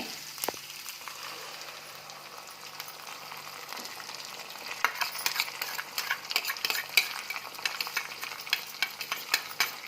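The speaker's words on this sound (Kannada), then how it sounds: "ಇದು ಚೆನ್ನಾಗಿ ಹಸಿ ವಾಸನೆ ಹೋಗೋ ತನಕ ಎಣ್ಣೆನಲ್ಲಿ ಹುರ್ಕೋಬೇಕು" Ground mint paste frying in oil for mint rice makes a continuous sizzle. Busy spatula scrapes and clinks against the pan grow louder and more frequent in the second half.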